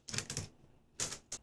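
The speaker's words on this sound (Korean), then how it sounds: "메인보드 비닐 제거하겠습니다." Protective plastic film is peeled off an ASUS TUF Gaming Z690-Plus WiFi motherboard, giving four sharp crackling bursts in two quick pairs, fairly close and moderately loud, with no talking.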